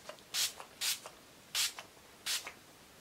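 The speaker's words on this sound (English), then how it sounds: "I am going to use the Photo Focus setting spray from Wet n Wild to quickly set everything in place" Wet n Wild Photo Focus setting spray fires four short, crisp hissing mists in an even rhythm, each followed by a faint click, close and quiet in an otherwise still room.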